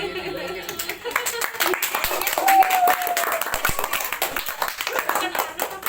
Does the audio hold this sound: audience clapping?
yes